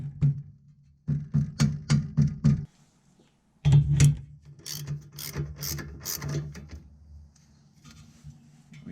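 A ratchet works the steering shaft nut on a 1980 Porsche 924 Turbo in quick bursts of rapid clicking, close and fairly loud, with a short pause between bursts and faint rubbing afterward.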